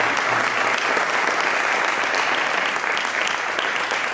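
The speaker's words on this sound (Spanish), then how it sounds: "Un fuerte aplauso para José Ramón Bamonde" A hall audience at a talk on sport nutrition in Tineo claps to welcome a speaker, a dense, even wash of applause from many hands that stays steady throughout.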